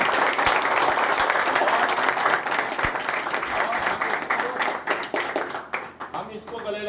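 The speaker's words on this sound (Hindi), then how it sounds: "जोरदार तालियां" Sustained applause from a crowd at a gathering, dense steady clapping filling the whole stretch and thinning slightly toward the end, with scattered voices mixed in.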